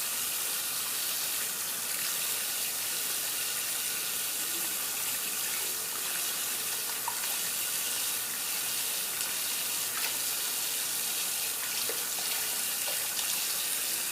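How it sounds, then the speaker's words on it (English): Hot tap water runs steadily into a sink as a razor blade is rinsed clean of shaving residue, a continuous close splashing hiss with no voices. "So I just usually wash that off with some hot water."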